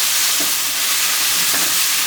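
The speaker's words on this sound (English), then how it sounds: "Give it a little quick stir." Onion, garlic and thyme fry in a hot pan with a constant dense sizzle and a couple of soft stirring scrapes, close and loud with no voices.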